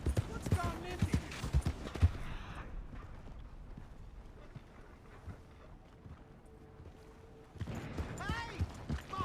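Horse hooves clip-clop in the Red Dead Redemption II video game, sounding in bursts at the start and the end of the clip with wind and ambient noise between them. A character speaks over the hoofbeats.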